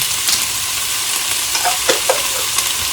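Spoon stirring a cayenne pepper and cumin spice blend into a pot of chipotle chili, with soft scraping strokes and a faint sizzle underneath, fairly close and steady with no talking.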